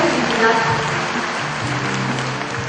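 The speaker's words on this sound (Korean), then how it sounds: "박수 부탁드립니다." An audience at a Seoul regional meeting of the National Unification Advisory Council applauds in a dense, steady wash of clapping that fills the short stretch, moderately loud and fairly close.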